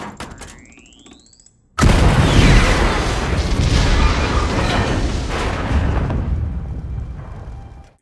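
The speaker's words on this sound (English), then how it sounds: "now we see a stormtrooper tossing a grenade into the ship to kill Bodhi" A grenade explodes inside a ship in a Rogue One battle scene: a short, quieter stretch ends in a sudden, loud blast that rolls into a long, heavy roaring rumble.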